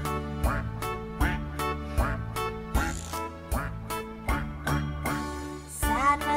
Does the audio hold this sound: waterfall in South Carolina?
no